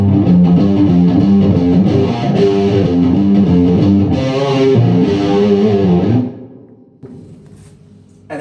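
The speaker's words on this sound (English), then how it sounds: "just a bit of reverb happening there. I think we've got a tiny bit of chorus from the fractal as well" An electric guitar played through an 80s-style rack rig, with an Eventide unit adding wide modulation, a Fractal adding light chorus, plus reverb: loud, rhythmic strummed chords for about six seconds, then a ringing tail that fades into quiet.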